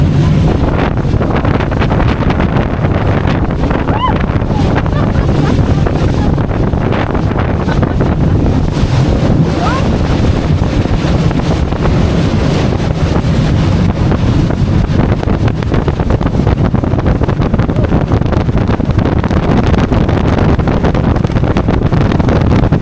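Motorboat engines running in sport mode off the coast of Torquay, Devon, a steady loud roar under heavy wind buffeting and crashing waves for the whole stretch, with no talk.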